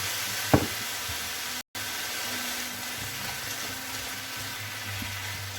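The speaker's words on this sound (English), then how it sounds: "I'm just going to get the soy sauce going in there." Soy sauce sizzling in a pan with chicken, a steady soft hiss of frying with a sharp knock near the start and a brief drop-out, continuous and fairly close.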